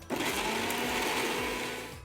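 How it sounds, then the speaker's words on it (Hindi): A Bajaj Evoke 1000-watt mixer grinder with Duracut blades grinds coconut chunks dry, without water, in a loud steady motor whine with a gritty churning texture that runs close and continuous before easing slightly at the end. "यूं इसे अब हम पीसेंगे। और हाँ, इसे बिना पानी के ही पीसना है"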